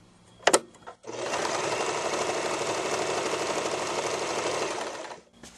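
An Elna sewing machine runs decorative stitches, starting with a few clicks and a brief pause, then a steady fast mechanical whir that holds for about four seconds before stopping, close and alone.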